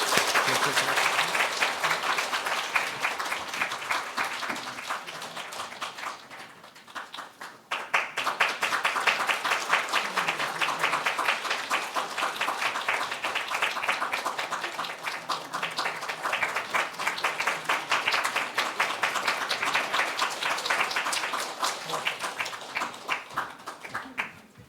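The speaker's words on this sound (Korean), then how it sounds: "우리 크게 박수로 축하하겠습니다" Congregation applauding a baptism during a Sunday worship service at a Korean Holiness church, sustained dense clapping filling the room for about twenty-five seconds with a brief dip midway.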